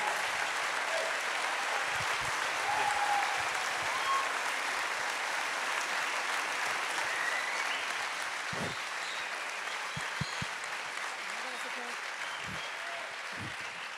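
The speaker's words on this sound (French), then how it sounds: "Je vous demande encore une fois de les applaudir très chaleureusement" Warm, sustained audience applause at a public talk, a dense even roar of many hands clapping from start to end with faint voices mixed in.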